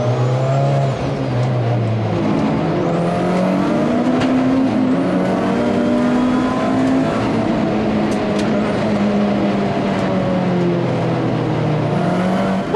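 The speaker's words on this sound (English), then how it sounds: "The cars making their way towards what will be a rolling start." Several classic touring car engines drone and rev loudly together at Brands Hatch, pitch rising and falling as the cars move around the track toward a rolling start, steady and continuous throughout.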